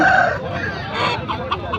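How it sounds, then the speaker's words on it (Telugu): A Kaki Nemali rooster at a livestock market in Rayachoti, Kadapa district, India, crows loudly up close, then breaks into a run of short, throaty clucks. "కాకినెమిలి పుంజు,"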